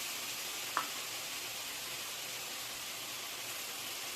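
Diced tofu sizzles in a hot pan as a steady, close hiss, with a single brief tap near the start and no talk.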